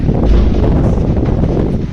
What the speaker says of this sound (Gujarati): બ્લોવર પણ મસ્ત રીતે ચાલી રહ્યું છે